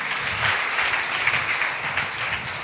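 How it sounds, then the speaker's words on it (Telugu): A congregation at a Sunday worship service claps steadily, a dense and even roar of hands that fills the room without a break and with no voice on top. "చప్పట్లు కొడదాం"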